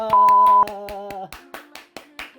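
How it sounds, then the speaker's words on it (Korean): At the end of an abs workout session, a short series of sharp, evenly spaced hand claps rings out close by over a sustained musical tone that drops in pitch midway. "자, 박수!"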